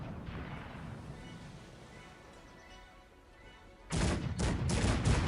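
Musket and cannon volleys from a battle in the strategy game Cossacks 3, starting as a distant rumble and then breaking into several sharp, loud bursts near the end.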